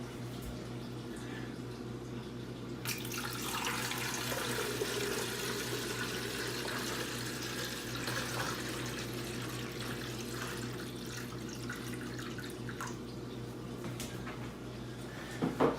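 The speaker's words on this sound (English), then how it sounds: "Now let's go ahead and add some water." Water poured from a container into the reservoir of a Keurig K Elite coffee maker, a soft continuous trickling and gurgling pour, close and fairly quiet, steady for most of the stretch.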